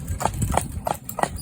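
A horse's hooves clip-clop on a road at a steady walking pace, about four distinct, fairly close hoofbeats with no talk.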